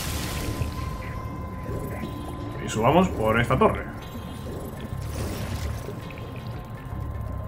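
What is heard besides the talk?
switch activating water flow, rising water in Spyro 2 video game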